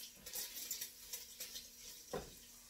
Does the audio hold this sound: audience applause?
no